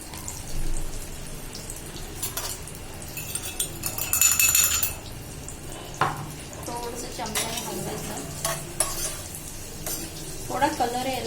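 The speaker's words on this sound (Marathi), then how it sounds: "केळी चांगली तुपात तळून निघाली पाहिजे" Bananas and chopped dry fruits fry in hot ghee with a steady crackling sizzle, while a spoon stirs and scrapes against the pan in repeated clinks and rattles, close and fairly loud.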